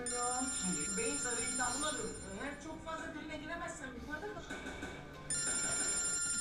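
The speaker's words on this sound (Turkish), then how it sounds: "Abi bilmediğim bir numara arıyor" A phone rings from an unknown number with a steady electronic ringtone that goes on under someone speaking, then comes through clearly on its own near the end.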